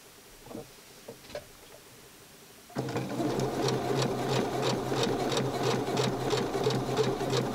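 A home sewing machine starts up and stitches a Barbie doll outfit, a fast, steady mechanical whirring and rapid ticking needle rhythm close by, preceded by a few quiet handling taps.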